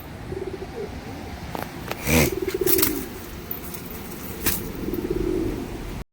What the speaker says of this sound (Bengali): পিওর র ব্লাডের আন্ধ্রা বিটের পায়রা